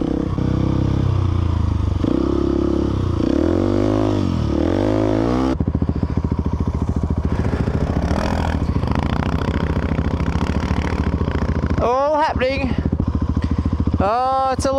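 Dual-sport motorcycles, a KTM 690, a Suzuki DR650 and an SWM Superdual, ride through deep sand with a loud, steady engine drone and revs rising and falling. Wind buffets the microphone, and a rider's voice is heard over the engines.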